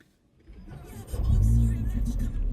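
A Mercedes A45 AMG push-button start: a short cranking whir, then the engine catches and flares into a loud, deep idle close by, with a voice briefly audible.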